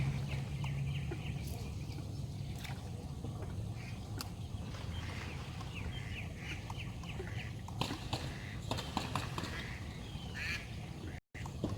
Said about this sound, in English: Goes them ducks.